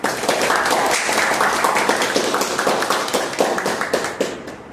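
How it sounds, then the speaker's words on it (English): Audience applause at a Toastmasters meeting, steady clapping from a roomful of hands that holds throughout and tapers slightly toward the end, close and fairly loud. "can we all have a huge round of applause for our general evaluator"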